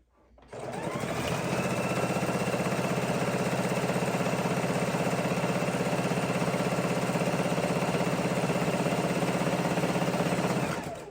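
A sewing machine stitching across a fabric piece for a soup bowl cozy starts up and runs at a steady, even whir for about ten seconds, close and alone.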